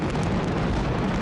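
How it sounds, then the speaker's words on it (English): A mascleta firecracker barrage at Las Fallas in Valencia pounds as a dense, loud, continuous wall of rapid detonations with no gaps, booming and percussive. "What you hear is the mascleta, and no joke, it's a percussive experience."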